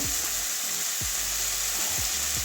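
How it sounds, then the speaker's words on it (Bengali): Mushrooms and freshly rinsed soybeans sauté in a hot pan, giving a steady, close sizzle with a few soft stirring knocks roughly every second. "এবারে দু মিনিট এটাও কষিয়ে নেব"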